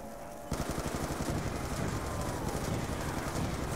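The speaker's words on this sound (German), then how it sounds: "so viel Explosionen." Loud, dense bursts of gunfire and explosions from Black Ops 2 zombie mode erupt after a brief quiet start and keep going steadily to the end.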